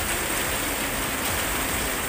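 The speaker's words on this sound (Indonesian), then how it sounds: "Ini kondisinya lagi hujan deras" Heavy rain at a house during a downpour, a loud, unbroken hiss of pouring water splashing hard on surfaces, steady throughout with no talk.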